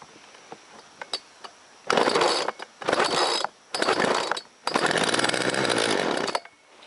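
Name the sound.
small saw engine starting and running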